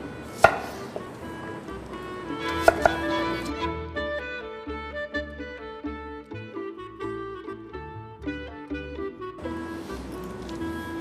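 Parsley and other fresh herbs are chopped with a knife on a board in a home kitchen, a run of quick, close, irregular taps and thuds.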